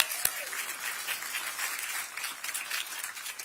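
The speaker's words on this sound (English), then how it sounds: "And round of applause for Lisa and Alex." Applause at a groundbreaking ceremony for a new Portland Thorns and WNBA training facility sounds faint and distant, a soft, even patter of many hands lasting a few seconds after one sharp clap.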